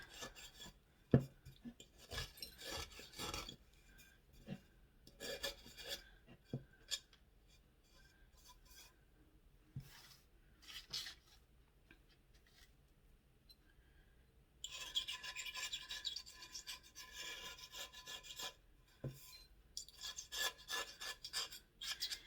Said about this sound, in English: I just take an X-Acto knife and I'm gonna clean around my edges first